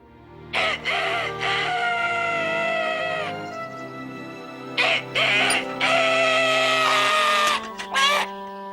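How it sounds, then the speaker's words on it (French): A mechanical robot rooster in a French cartoon crows in several long, loud, shrill calls, with short gaps between them and a rising burst near the end, over a low backing tone. "Ce coq mécanique gagnera le concours."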